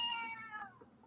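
A house cat gives a single drawn-out meow that bends downward and fades, heard close and fairly quiet with no talk over it.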